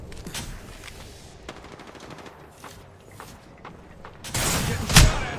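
Rapid gunfire in the video game Apex Legends rattles in bursts throughout, ending in a louder, closer volley with a heavy impact near the end.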